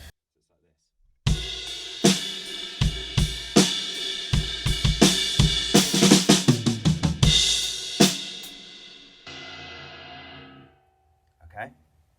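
A drum kit plays a groove with sharp kick and snare hits, building into a busy fill, then a crash rings out and fades, with one late hit.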